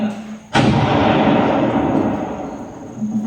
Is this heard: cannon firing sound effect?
yes